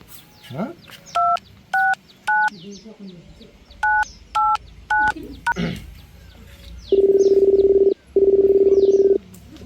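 Telephone number dialed on a phone keypad in a village setting: three groups of three sharp keypad tones, followed by two long, loud ringback tones, with faint bird chirps and brief background voices between them.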